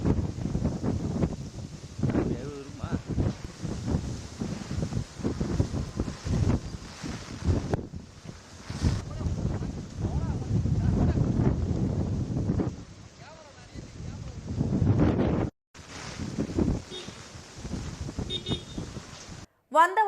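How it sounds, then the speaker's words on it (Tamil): Heavy wind with rain in Vandavasi, Tiruvannamalai district, roars in strong gusts that buffet the microphone, with loud rushing bursts and a few brief dropouts. "இடைவிடாமல் பலத்த காற்றுடன் மழை பெய்து வருகிறது"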